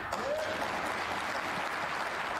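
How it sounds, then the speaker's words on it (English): Applause from other tables at a snooker match in a large arena, the German Masters, sounds as a steady, dense wash of clapping heard from a distance, with faint crowd murmur throughout. "You can already hear applause from other tables"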